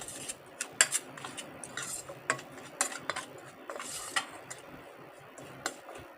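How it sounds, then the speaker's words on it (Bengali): Guava chaat with black salt and spices is tossed and mixed in a bowl, giving a quiet, irregular patter of scrapes and light clinks of utensil against dish, close up with no talk. "এটাকে আমি খুব ভালো করে মাখিয়ে নিলাম।"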